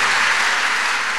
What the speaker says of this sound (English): She's clapping.